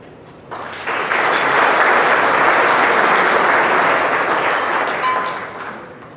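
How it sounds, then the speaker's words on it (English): Loud applause breaks out at a gala fundraiser dinner, rising quickly after a faint start, holding as dense clapping from a large crowd, then tapering off near the end. "keep that applause going"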